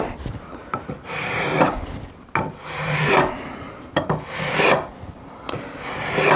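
Repeated rasping strokes of sandpaper rubbing back and forth over the frets of a short scale bass guitar, close and fairly loud, in an uneven rhythm with brief pauses between passes.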